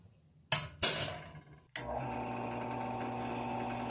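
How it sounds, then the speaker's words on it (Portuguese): A hammer strikes a center punch on a metal cabinet panel, two sharp, ringing metallic hits close together, followed by a steady mechanical hum that carries on alone. "com a ajuda de um punção e de um martelo, marquei todos os pontos onde os furos deveriam ser feitos"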